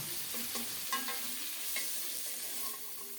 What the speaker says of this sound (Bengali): মাছগুলো একটু উল্টে পাল্টে দিয়েছি লাল লাল করে ভাজা হয়ে গেছে